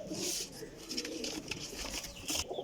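Teddy pigeons, a champion breed kept in a loft in Sarai Alamgir, Jhelum, coo steadily in low, rolling calls close up, with several overlapping birds and no voices.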